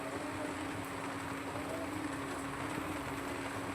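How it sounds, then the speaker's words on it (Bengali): Heavy monsoon rain pours down in a constant, even hiss that fills the whole stretch without letting up. "প্রচুর বৃষ্টি হচ্ছে এখানে"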